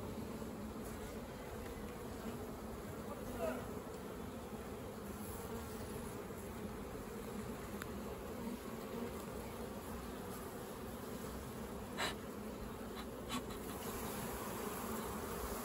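A dense, steady drone of many honeybees humming close by, continuous throughout with a few brief sharper buzzes of individual bees passing near.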